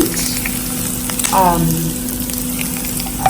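Onions saute in a pan, sizzling loudly and evenly up close, with a brief squeaky scrape of a utensil partway through.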